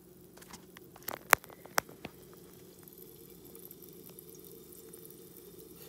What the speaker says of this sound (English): see how it's totally bubbling all that citric acid on that panel.